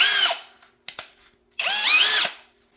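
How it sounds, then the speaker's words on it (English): DEKOPRO cordless drill whirring up and spinning down in two short close bursts, with a couple of sharp clicks from a switch or setting change in between. "It has the driver, the drill, and the hammer drill setting, forward and"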